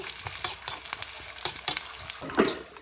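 Hot oil sizzles and crackles in a pan, with sharp popping bursts as seeds spit, close and lively, no voices.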